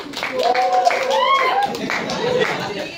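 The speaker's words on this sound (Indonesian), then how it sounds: "Tepuk tangan, teman-teman." Classmates in a school classroom clap their hands together, a scattered patter of applause heard under a teacher's voice and children's chatter.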